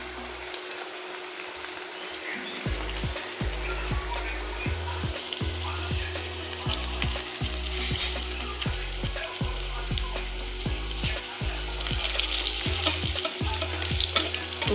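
Mughlai paratha stuffed with egg frying in hot oil, a steady broadband sizzle running throughout with repeated low thumps and scrapes from handling the pan, no talking.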